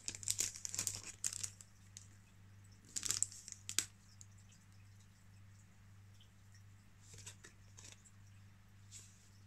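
Foil-like wrapper of a Pokémon Champions Path booster pack crinkles and tears open in a few brief sharp bursts, close up and fairly quiet over a low steady hum.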